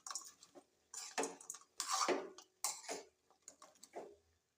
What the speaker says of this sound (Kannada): ಉರಿ ಸಣ್ಣ ಇಟ್ಕೊಂಡು ಈ ಥರ ಮಿಕ್ಸ್ ಮಾಡ್ಕೋಬೇಕು ರೀ